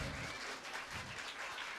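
Steady, dense applause from an audience at a cultural festival stage performance, a continuous wash of clapping with no voices over it.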